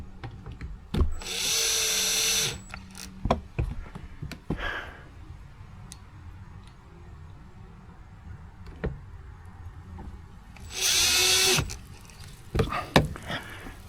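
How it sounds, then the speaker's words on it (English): A power drill drives screws back into a 2010 Honda Odyssey door during lock actuator work, two sustained whirring bursts separated by a long pause, with clicks, taps and handling noises in between. "Get our screws back in."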